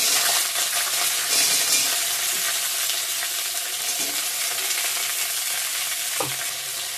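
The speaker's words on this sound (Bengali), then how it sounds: "কড়াই তেল দিয়েছি, এখন ভাজাটা করে নেব।" Bitter gourd frying in hot oil in a kadai, a loud continuous sizzle with crackles and faint stirring scrapes throughout, no talking.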